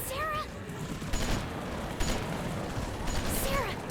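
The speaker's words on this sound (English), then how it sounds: "Oh, you're shooting at us!" Gunfire in the video game The Walking Dead, with several sharp bursts of shots over tense background sound and a voice shouting in alarm.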